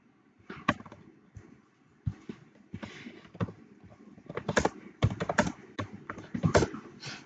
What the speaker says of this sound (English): I'm going to type it here.